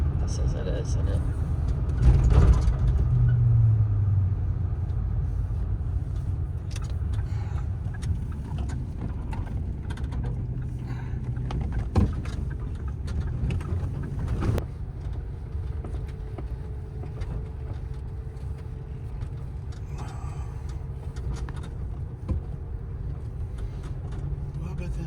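A motorcycle on North Fork Road near Polebridge, Montana, passes as a steady low engine rumble heard from inside a moving vehicle, with a brief louder swell partway through and people talking over it.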